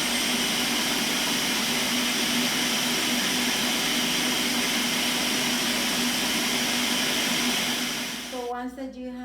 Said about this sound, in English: your blender has this, put it in the low speed, and then start adding little by little.